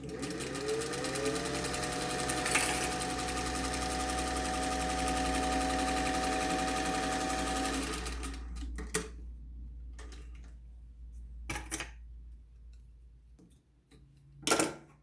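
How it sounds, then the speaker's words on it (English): A sewing machine runs a quick, basic straight stitch on fabric for a face mask. A steady rapid mechanical whir lasts about eight seconds, followed by a few soft clicks and handling knocks. "you're just going to do a very basic, quick, straight stitch"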